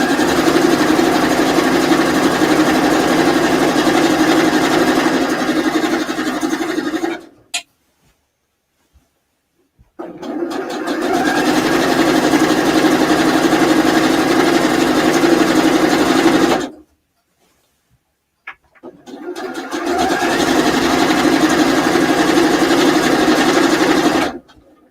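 Sewing machine stitching in three long runs of rapid, buzzing mechanical chatter, each lasting several seconds, separated by short silent pauses with small clicks, loud and close with no talking.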